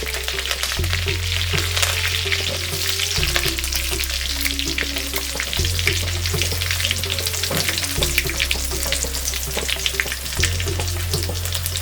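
Green and dried chillies with a sprig of curry leaves fry in hot oil for homemade sambar rice, giving a loud, steady crackling sizzle that runs throughout with no talking over a low background drone.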